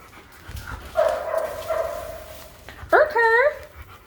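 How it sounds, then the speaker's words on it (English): A dog gives a drawn-out whining bark followed by a sharper yelping bark, fairly close, with a person speaking around the calls. "Allie, are there dogs up there?"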